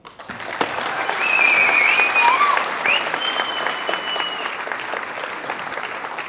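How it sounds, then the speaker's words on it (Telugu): Sustained audience applause from a sizeable crowd, dense clapping swelling early and holding steady, close and loud, with a few faint whistles or cheers mixed in. "మీరు నిజంగా వీళ్ళలో చప్పట్లు కొట్టాల్సిందే"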